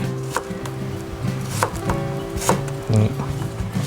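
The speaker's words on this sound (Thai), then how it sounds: "โอเคพอเราหั่นสีนี้เนาะก็เดี๋ยวคริสก็จะหั่น" Knife chopping a small crisp cucumber on a cutting board, a steady run of sharp close taps with a faint tonal hum underneath and no talk.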